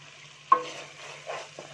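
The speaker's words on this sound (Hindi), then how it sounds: "डालकर मिक्स कर लेंगे।" Garam masala is stirred into red rice in a pan: a sudden spatula knock, then quiet scraping and shuffling under a low, steady hum.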